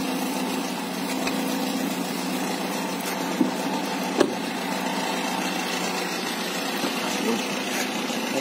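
Steady low engine rumble of a car idling, a constant hum filling the whole stretch with a couple of faint knocks, no voices heard.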